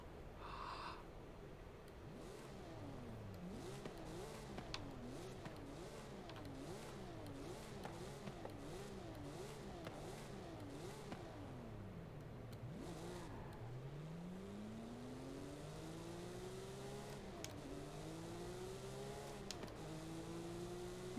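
A Porsche in a racing video game revving repeatedly, its engine rising and falling in rapid bursts before a long climbing acceleration through the gears, loud and clear with no talk.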